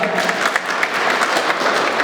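Loud, dense audience applause in a hall during the opening of a digital policy discussion forum, continuous clapping from a crowd throughout.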